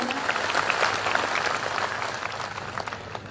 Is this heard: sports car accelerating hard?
no